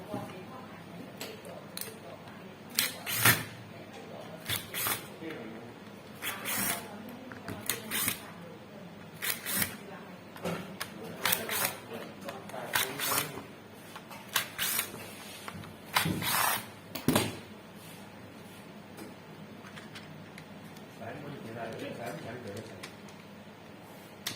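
Screws are removed one after another from the housing of a Makita HP333 hammer drill, with repeated sharp clicks and taps from a screwdriver and handling over a steady background hiss, close by.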